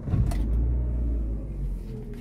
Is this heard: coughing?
no